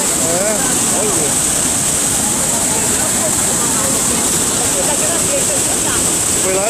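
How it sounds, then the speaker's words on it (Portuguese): Powerful rushing water at Iguazu Falls, a dense, steady roar filling the scene without letup, with faint voices of visitors mixed into the continuous wash of falling water. "Olha a força da água ali"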